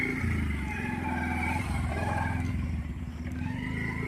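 A Bajaj Pulsar motorcycle engine runs at high revs as the rider tries to spin the bike in place, a steady loud rasping drone with slight dips in pitch and no talk.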